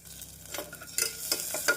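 Onions being stirred and sautéed with ginger garlic paste in a pan for green peas poriyal, a soft, steady sizzle with scraping stirs rising and falling at close range, no voices.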